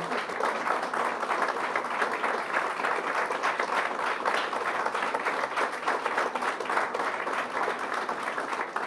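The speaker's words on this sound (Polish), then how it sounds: "Brawa dla laureata." Audience applause for the laureate at a literary award ceremony, a steady, even wash of many hands clapping that holds throughout.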